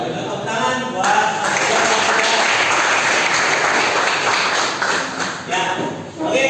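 Applause fills a classroom after a group presentation, a dense steady patter of many hands clapping for several seconds with some voices mixed in beneath it.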